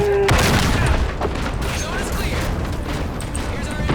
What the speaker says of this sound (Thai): นี่เนี่ยยัดระเบิดเลย